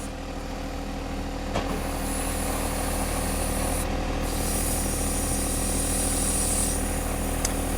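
A John Deere 1025R tractor engine running steadily to operate a 260B backhoe boom, a close, loud, constant hum with a high hydraulic whine rising and cutting out, and a couple of sharp clicks.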